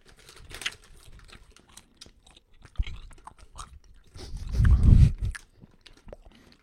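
Crisp, irregular crunching and biting of crunchy food close to the mic, with scattered clicks and one louder, heavier munching burst near the end.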